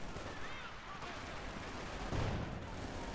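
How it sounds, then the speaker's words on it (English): Gunfire in the World War II strategy game Company of Heroes 2, with dense rapid bursts of rifle and machine-gun fire from infantry squads crackling continuously, a heavier thump near the end. "Opening fire, trying to hold back those crews."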